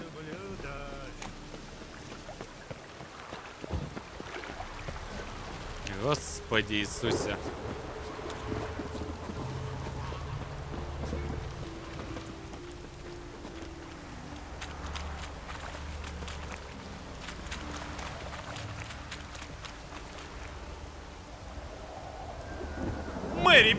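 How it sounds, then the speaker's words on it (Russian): Rain falls steadily with low rumbling thunder rolling through in the video game The Witcher 3: Wild Hunt, while a man mutters briefly over the downpour. "Дождь, люблю дождь."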